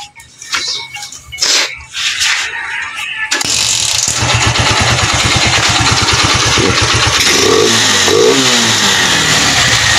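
Starter cranks briefly, then a Suzuki GD110 motorcycle engine with an intermittent stalling fault catches and idles loudly up close, its rapid putter rising in a couple of quick revs.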